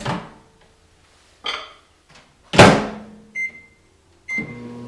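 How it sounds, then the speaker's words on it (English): Kitchen microwave oven briefly heating a glycerol and citric acid paste, heard as a few separate clunks and knocks of the door and controls, with a short electronic beep tone, close and fairly loud with quiet gaps between. "Let's heat this in microwave first."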